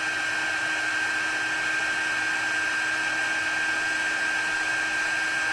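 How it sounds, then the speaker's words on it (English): A heat tool blows steadily to melt embossing powder on a stamped card, producing a constant close hiss with a thin high-pitched whine running unbroken throughout, with no speech. "I'm just going to heat it up and melt that powder."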